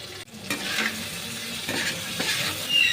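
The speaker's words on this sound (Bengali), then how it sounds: "এবার কষে নেব ভালো করে।" Spices with turmeric, ginger-garlic paste and salt fry in a pan, a close, continuous sizzle with a few scraping stirs.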